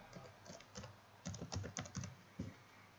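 Fingers type on a computer keyboard close by, with quick bursts of clicking keystrokes that start sparse and then run into a denser rapid patter, no voices.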